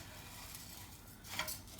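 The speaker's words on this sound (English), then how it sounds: "So I'm going to add my 2 cups of rice. I'm going to stir it in." Rice is stirred into melted butter in a pot: a soft scraping and shuffling of grains against the metal, quiet and close, ending with a brief brighter scrape.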